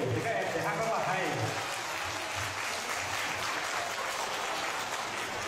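An audience claps for child performers, a dense and steady wash of applause that runs the whole time, with a voice speaking over it.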